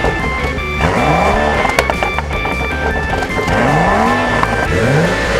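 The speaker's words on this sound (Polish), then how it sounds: "Fantastyczny, bulgoczący dźwięk wydobywający się z dwóch okrągłych końcówek wydechu." BMW M235i Coupe with twin round exhaust tips burbling and popping under light throttle, a loud close engine note rising and falling in repeated swells as the car accelerates.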